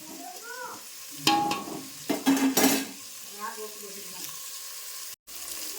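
Onions and green chillies fry in oil in a pan for churumuri susla, with a soft sizzle under several sharp scraping stirs of a spoon against the metal and brief clatter between them.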